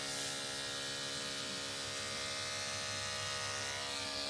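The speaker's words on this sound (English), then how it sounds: "the clippers are starting to run a little bit louder" Electric hair clippers buzzing steadily and close, a constant bright motor whine with no pauses or voices.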